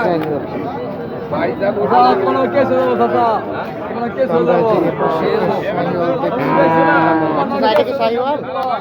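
Sahiwal bulls low repeatedly at a busy cattle market, loud drawn-out moos rising over constant crowd chatter and bargaining voices close by.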